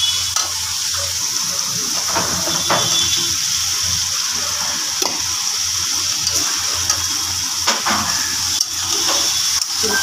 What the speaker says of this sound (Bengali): এবার আমি ফুলকপি আর আলু দিয়ে দিচ্ছি।